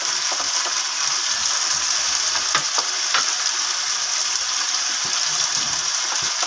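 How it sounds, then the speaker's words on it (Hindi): Ginger, garlic and green chili fry in a pan with a continuous close sizzle, broken by occasional light stirring clicks and scrapes, and no talking. "ये हरी मिर्च, इसको अच्छी तरह फ्राई कर लेंगे।"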